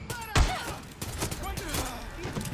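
A quick burst of gunfire in the video game Far Cry 6, a sharp shot followed by scattered cracks, with someone talking over it.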